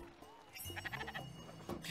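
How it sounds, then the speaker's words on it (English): A sheep bleats in the video game Spiritfarer, several wavering bleats in a short run that sound fairly close over a dense game soundscape. "Oh! Sheep! I heard a sheep!"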